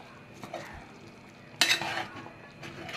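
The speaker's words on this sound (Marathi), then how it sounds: "नुसतं पातेल्याला चमचा घासल्याचा आवाज होतो बघा" A spoon scrapes and stirs against the inside of a cooking pot of thickening dal dhokli, with soft scrapes early and a louder, harsher scrape partway through.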